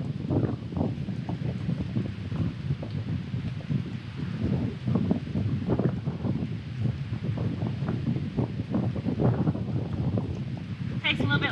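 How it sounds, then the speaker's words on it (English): Wind buffets the microphone outdoors at a beach, a steady low rumble and gusting roar across the whole stretch, with a voice talking over it. "I hope you guys are hearing this alright with the"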